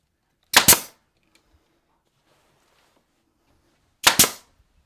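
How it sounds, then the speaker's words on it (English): A wall panel strip is banged into place during a DIY panel install, two sharp, loud impacts several seconds apart, each a quick double knock, with near silence between them. "Bang it on there."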